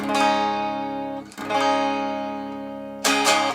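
A guitar tuned down half a step is strummed: a full chord rings and fades, a second strum sustains, then two quick strums close it, loud and up close.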